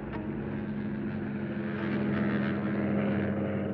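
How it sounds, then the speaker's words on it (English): A Bristol Box Kite, an early propeller biplane, drones with a steady, loud engine and propeller roar that holds at a constant level throughout, with no voices over it. "It's called the Bristol Box Kite, and obviously it's at the primitive end of aerial technology"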